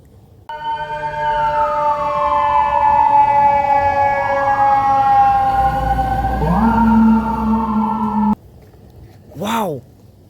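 A toy fire truck sounds a loud, steady electronic siren wail that sweeps gradually up and down for about eight seconds, stops abruptly, then gives a short warbling chirp.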